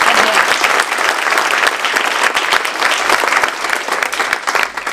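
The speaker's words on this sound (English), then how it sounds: "I would like to do a round of applause for the four of them" A room full of people clapping steadily at a marching band event, loud and close, a dense continuous applause lasting several seconds.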